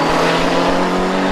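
GT Cup race cars at speed on the Oulton Park circuit, a loud sustained engine roar with a steady drone filling the whole moment, close to the track.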